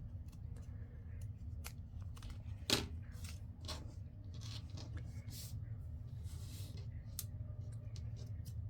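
Scissors trimming paper for a craft cluster, quiet snipping cuts with a few crisp slices and light rustling, close and soft over a low background hum.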